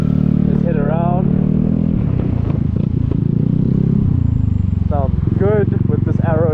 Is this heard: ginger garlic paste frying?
no